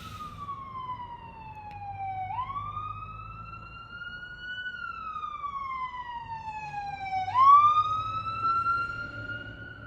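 An emergency siren passes outside during an indoor recording, wailing in long rising and falling sweeps. It sounds fairly distant, grows louder, then fades.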